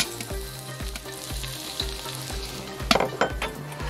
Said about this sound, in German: das erhitzen wir leicht und fügen etwas von dem Knoblauch zu, um das Öl zu aromatisieren